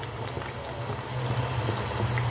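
A chicken and olive tagine sauce simmers in a pot, a steady close bubbling and gurgling that grows slightly fuller and louder over its short span.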